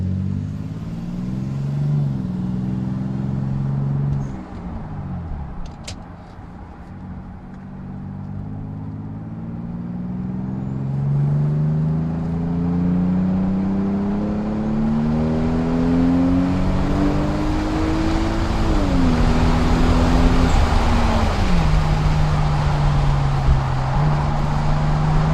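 Car engine heard from inside while driving, pulling through several gears with rising revs and shift drops, growing louder and more strained toward the end over road and wind noise.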